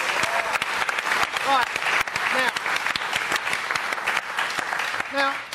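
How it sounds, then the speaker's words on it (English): A football talk show's studio audience claps and cheers for Spurs fans, loud sustained applause with a host speaking over it. "Give them a round of applause."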